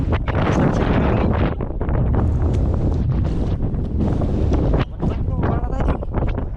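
Strong typhoon wind buffets the microphone in loud, rough gusts while fishing, with a voice faintly talking under the roar.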